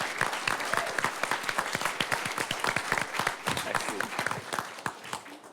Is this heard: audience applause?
yes